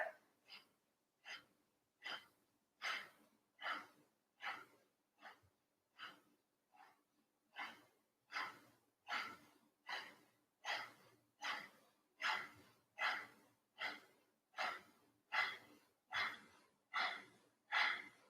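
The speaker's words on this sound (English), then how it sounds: "Inhale left, exhale right." Rhythmic yoga breathing in a kundalini class, a steady series of about twenty sharp inhales and exhales through the nose, close and clear, each breath a short pulsed burst with no talk over it.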